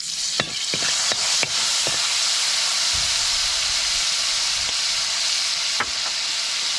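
Tilapia sautéing with soy sauce and pepper in a hot pan, a loud continuous sizzle and hiss broken by a few sharp clinks of a utensil stirring against the pan.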